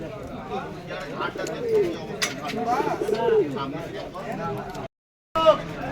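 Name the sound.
pigeons cooing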